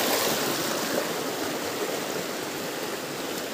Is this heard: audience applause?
no